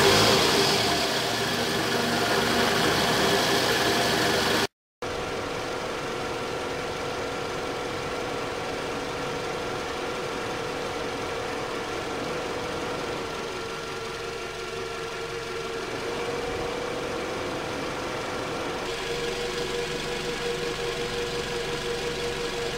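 A Toyota Scion engine idles steadily while warming up to operating temperature after a water pump, thermostat, belt and coolant replacement, a continuous close mechanical drone with a brief dropout and a slight shift in tone later on.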